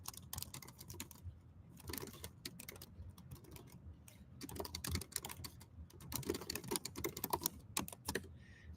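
Someone types a chat message on a computer keyboard, the close key clicks coming in irregular quick runs with brief pauses and no voices.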